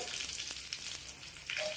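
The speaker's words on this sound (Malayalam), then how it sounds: "കടുക് താളിക്കാം." Mustard seeds sizzle in hot oil as a tempering for a taro-leaf theeyal, a bright crackling fry with small pops and a louder spatter near the end, close up and with no talk.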